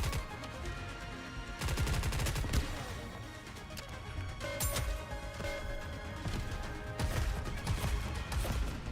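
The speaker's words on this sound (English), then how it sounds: "I just realized I haven't used the shotgun" Repeated loud gunfire bursts from a shotgun in a hunting video game, blasts landing at irregular intervals over a dense, noisy game soundscape.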